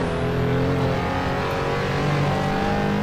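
A RUF CTR Yellowbird on 215/45 R17 front and 255/40 R18 rear tyres roars through the Nordschleife in Assetto Corsa, a loud, steady engine drone with shifting pitch filling the whole stretch.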